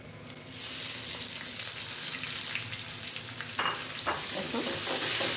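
Jute leaves are stirred into browned onion in a hot pan, producing a steady, close frying sizzle with scraping stir strokes that sharpen near the end.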